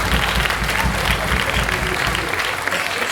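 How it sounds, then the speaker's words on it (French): An audience breaks into sustained applause during a New Year's address, a dense wash of clapping that holds steady throughout, fairly loud and close, with no speech over it. "vous pouvez l'applaudir tout de suite"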